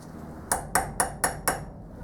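Five sharp metallic hammer strikes on a center punch driven into a metal tailstock base, evenly spaced about a quarter second apart, close and crisp with a brief ringing tail, no talk.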